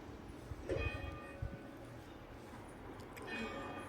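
A bell rings out in the distance, a couple of resonant tolls with lingering overtones over a soft outdoor background beside a river.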